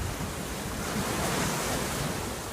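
Ocean surf breaking below the northernmost tip of a mountain that juts out into the ocean, a steady, loud broadband roar of waves mixed with wind buffeting the microphone, with no voices.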